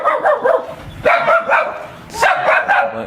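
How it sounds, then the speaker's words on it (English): A dog guarding an old residential community slated for demolition in China barks in loud, close bursts, two clusters of sharp barks separated by a brief pause. "This dog doesn't like me here."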